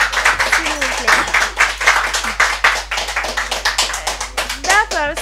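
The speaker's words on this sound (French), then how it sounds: "Applaudissez s'il vous plaît." Crowd clapping at a Malian rap event comes in quick, sharp, fairly rhythmic claps up close, with voices talking and calling out over the claps.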